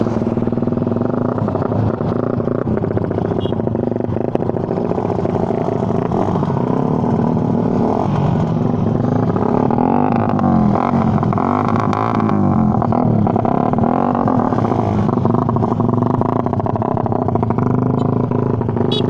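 A Raider 150 motorcycle with an open pipe and aftermarket coil revving loud and close, a continuous rasping engine roar rising and falling over about nineteen seconds with some mechanical clatter.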